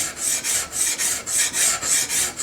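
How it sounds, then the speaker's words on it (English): A single-cut file scraped flat across a surface in steady back-and-forth strokes, roughly eight even rasping passes, close and loud with no voices. "lay it flat on the surface here and just start scraping back and forth with no side to side movement"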